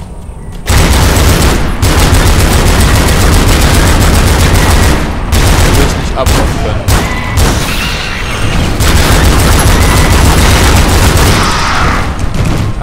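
Dense gunfire from the video game Tomb Raider Underworld plays as rapid, loud bursts of shots and booms, nearly unbroken for several seconds with only brief gaps, while someone speaks briefly over it.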